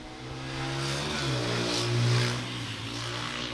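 A mini bike engine revs with a steady buzzing drone that swells to a louder peak and then eases back, heard close and alone.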